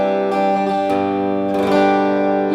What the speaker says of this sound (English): This is actually what this guitar sounds like.